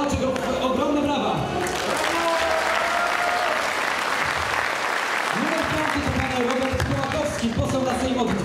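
Loud, sustained applause from a crowd at a politician's rally in Płock, dense clapping carrying on throughout while an amplified voice talks over it.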